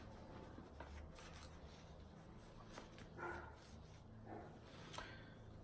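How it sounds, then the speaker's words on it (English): A dog barks at gardeners outdoors, two or three faint, distant barks spaced apart over a low background hum. "pardon the dog barking, but"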